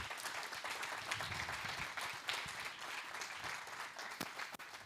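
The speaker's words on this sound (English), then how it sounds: "Everybody give him a great round of applause." Sustained applause from an audience fills the whole stretch, a dense wash of clapping without pauses.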